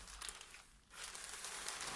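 Crinkly wrapping of a small gift package, holding pine nuts, being torn open up close, a steady rustle and crackle running through with a brief lull partway.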